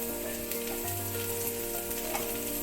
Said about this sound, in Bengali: এর মধ্যে এখন আমি কাঁচা লঙ্কা চিড়াগুলো দিয়ে দিচ্ছি।